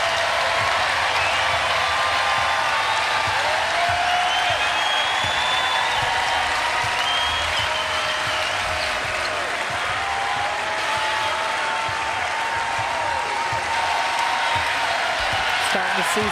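A basketball crowd cheers and applauds at the UConn vs Villanova Big East Tournament championship game, a loud, continuous roar of claps and whoops filling the arena throughout, with a commentator talking over it.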